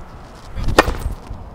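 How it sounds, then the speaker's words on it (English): A hard tennis serve with the legs lifting off the ground, the racket striking the ball once in a single sharp crack midway through, over faint court ambience. "Let me try now a normal serve."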